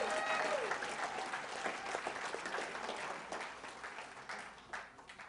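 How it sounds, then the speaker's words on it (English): Audience applause at a compensation plan presentation, dense steady clapping that starts full and gradually thins out toward the end, with no talk over it. "And how about we give a round of applause to Bernard for keeping it in right now, shall we?"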